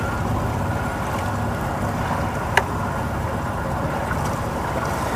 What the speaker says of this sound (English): Idling nice.